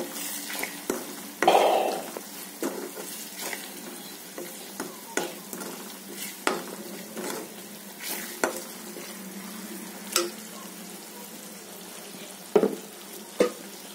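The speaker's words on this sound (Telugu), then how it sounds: "గరం మసాలా, కసూరి మేతి వేసి బాగా కలుపుకోవాలండి." Paneer methi chaman gravy with garam masala and kasuri methi, stirred in a sizzling pan: repeated scraping and clacking strokes of a spoon over a constant soft frying hiss.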